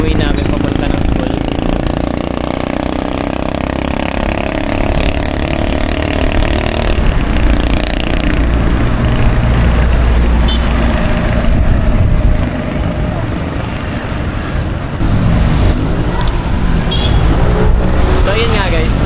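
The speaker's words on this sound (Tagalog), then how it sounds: "Ito yung main highway namin papunta ng school." Traffic on a main highway heard from a bicycle on the way to school, a continuous close roar of passing cars and engines with wind noise, under a voice talking throughout.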